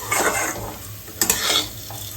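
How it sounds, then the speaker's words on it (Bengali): Rice stirred and frying in hot oil with whole garam masala, bay leaf and dried fruit in a pan, a close, steady sizzle with a brief scrape of the spoon midway and no talking. "তেলের মধ্যে একটু গোটা গরম মশলা, একটু তেজপাতা, একটু ড্রাই ফ্রুটস দিয়ে একটু ভেজে চালটা দিয়ে দিলাম"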